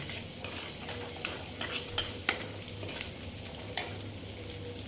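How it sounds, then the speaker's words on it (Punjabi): Garlic frying in a pan for Punjabi sarson da saag, with a steady low sizzle broken by several sharp scraping clicks from stirring; close, with no voices. "ਪਹਿਲਾਂ ਆਪਾਂ ਲਸਣ ਪਾਵਾਂਗੇ ਕਿਉਂਕਿ ਲਸਣ ਥੋੜਾ ਜਿਹਾ ਭੁੰਨਿਆ ਜਾਵੇ"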